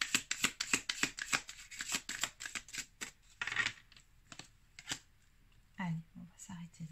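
Oracle cards being shuffled by hand, a quick run of crisp riffling flicks and taps, fairly close, followed by a few scattered snaps and then someone speaking softly.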